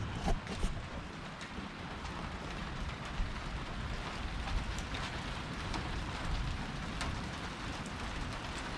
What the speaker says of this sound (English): rain shower.